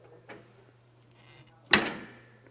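Ving large format heat press shutting with a single solid thud that rings out briefly, preceded by a softer knock and faint handling sounds in a quiet workshop.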